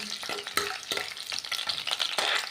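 Coriander, curry leaves and chopped garlic hit hot oil in a tempering for aloo methi, giving a close, steady sizzle broken by scraping stirs.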